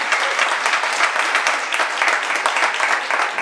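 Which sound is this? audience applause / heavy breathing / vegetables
audience applause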